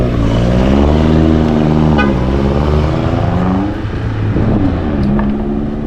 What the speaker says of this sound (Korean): 빵빵 소리도 너무 많이 들려서 가끔 좀 무섭긴 해